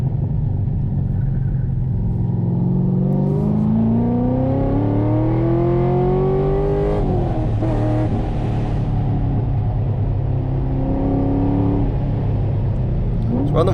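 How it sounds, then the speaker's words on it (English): A 650-plus horsepower naturally aspirated Corvette C6 Z06 race car on track at Thunder Hill West, its engine droning loudly from inside the cabin with rising pitch sweeps and a rev-matched downshift blip. "Have to manually rev match downshift."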